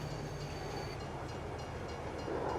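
A train rolls along in the farming video game Farming Simulator 22, making a steady low rumble and rolling drone at an even loudness from start to finish, with no voices.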